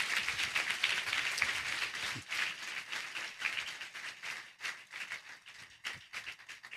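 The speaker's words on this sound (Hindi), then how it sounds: "ताली बजाकर प्रभु को धन्यवाद दीजिए।" A church congregation clapping hands together, a dense steady patter of many claps that thins into a looser, rhythmic clapping toward the end, moderately distant in a reverberant hall.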